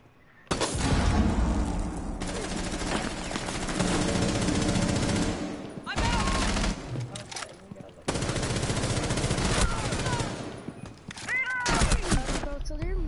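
Automatic gunfire in a shooter video game, long loud bursts of rapid shots broken by short pauses, with players talking and shouting over the shooting.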